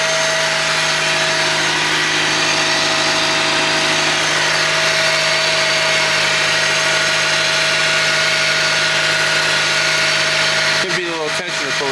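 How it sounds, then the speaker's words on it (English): A 1997 Honda Civic EX coupe engine runs steadily and loudly close by, with a constant whine often blamed on the power steering, ending in a brief clatter. "I hear something that's loud. I don't know if it's the alternator. I think it's the power steering."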